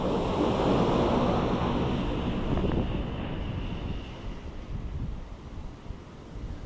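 Strong wind blows at the seashore, buffeting the microphone in loud, gusty rushes over the wash of surf, easing off somewhat toward the end.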